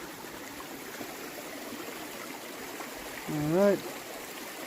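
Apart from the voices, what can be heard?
creek water flowing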